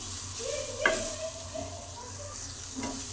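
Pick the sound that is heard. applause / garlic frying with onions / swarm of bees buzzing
garlic frying with onions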